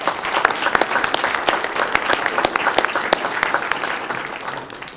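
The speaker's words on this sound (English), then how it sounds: "How about a round of applause for Aiden?" A round of applause for a third-grade student at a Westland city council meeting, a room of scattered, crisp hand claps that fades toward the end.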